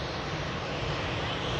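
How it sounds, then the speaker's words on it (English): A steady, broadband jet roar from an EasyJet airliner landing at Manchester Airport, dense and unbroken throughout the short stretch, with no clear onset or fade. "Buttery smooth landing there from the EasyJet."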